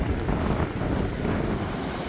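Heavy sea surging into a rocky gap on a cold, windy, rainy coast, a dense close roar of churning water with strong wind buffeting the microphone, continuous and loud.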